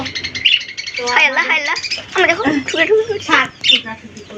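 Small birds chirp near a house at a home in rural Bengal, with short bright calls scattered through the clip, partly masked by a person talking over them.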